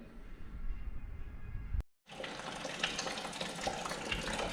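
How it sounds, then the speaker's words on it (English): Coolant pouring from the drain plug of a 1.4 Opel Corsa D, heard as a steady, close rush of liquid that breaks off for a moment and then returns as a strong continuous splashing stream. "next I'm going to open this plug to drain the coolant"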